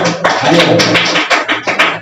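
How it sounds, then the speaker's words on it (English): A spoken English class applauding a student, loud close claps from a small group in quick bursts of uneven rhythm, with some sharper slaps standing out. "A big round of applause for him."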